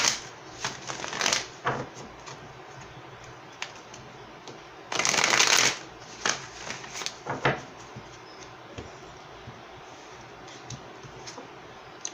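A deck of tarot cards being shuffled in close bursts, riffling and rustling in several short bouts with a louder sustained flurry midway, no talking.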